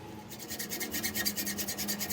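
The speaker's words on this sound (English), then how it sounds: "I go back and forth with the blades here" A hacksaw drawn back and forth through a hardened steel coil spring makes a steady, rhythmic rasping, with about a dozen close, moderately loud strokes and no voices.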